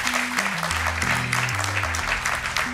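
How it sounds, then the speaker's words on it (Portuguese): Studio audience clapping on a Portuguese TV quiz show, a dense steady patter of applause running throughout beneath sustained musical tones from a jingle. "Podem bater palmas, que eles merecem."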